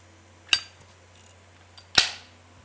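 Two sharp metallic clicks about a second and a half apart, a high polish chrome Zippo lighter lid snapping with only a faint, short ring after each, fairly close against quiet background hum.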